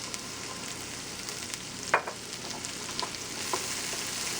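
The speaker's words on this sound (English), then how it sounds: "after about 3 or 4 minutes of sauteing the carrots, we're going to add some onion." Sliced carrots and onion sauté in a hot pan for a chicken pot pie, a steady close sizzle and crackle with a few sharper pops and stirring scrapes and no voices.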